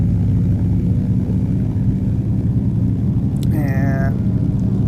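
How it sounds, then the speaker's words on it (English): A De Havilland Beaver DHC-2 radial engine roars steadily during takeoff in X-Plane 11, a loud continuous propeller drone with a brief tonal beep near the end. "Beaver 843 Tango Tango is taking off runway 23, departing straight out."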